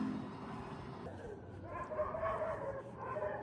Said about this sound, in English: and then the dogs decided to queue in